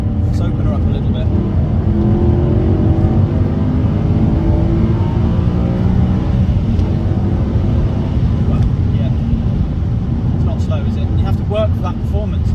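A BMW E92 M3 engine pulls hard and revs climb steadily, a loud continuous drone rising in pitch through the whole stretch, with someone talking over it at times.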